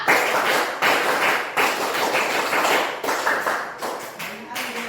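A group claps the Indonesian scout clap 'tepuk pramuka' in a classroom, a fast, rhythmic sequence of close clap bursts with short pauses between them and voices mixed in.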